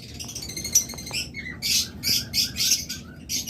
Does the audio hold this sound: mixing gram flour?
no